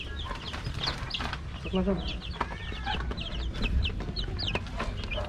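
Young chicks peep and cheep in rapid, high, overlapping chirps, fairly close and busy throughout, with some low clucking and background noise underneath.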